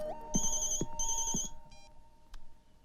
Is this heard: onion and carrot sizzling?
no